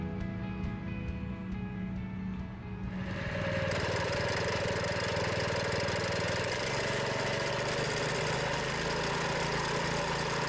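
A 2011 SC18 sod cutter engine idles steadily nearby, then its note shifts to a fuller, louder roar after a few seconds and keeps running evenly, with a knocking mechanical rumble and no talking.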